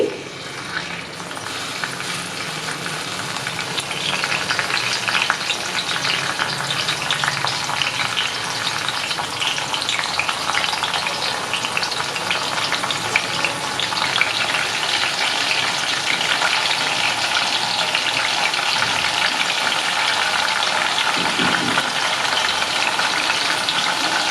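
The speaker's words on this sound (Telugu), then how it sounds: "ఇప్పుడు ఇంకికాయలు కూడా ఇలా నలుపుకుని ఆయిల్లో వేసుకుందామండి" Crushed shikakai pods fry in hot oil with a loud, dense, continuous sizzle that holds steady the whole time, like a gushing hiss, with no voices.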